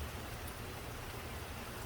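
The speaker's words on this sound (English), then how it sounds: "We've been waiting for some rain for quite some time." Steady rain falls continuously as a dense, even wash of noise, fairly loud and close, with no voices over it.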